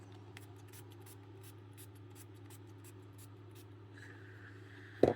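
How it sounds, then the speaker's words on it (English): Matte setting spray is misted over white face paint in one short, close hiss that lands right at the end, after a stretch of steady low background hum. "which is why I have you get matte setting spray, you want to take this"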